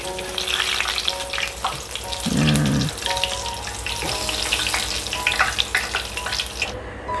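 Tofu fries in hot oil with a dense, steady sizzle and crackle, plus a brief stirring clatter of a utensil partway through; no voices.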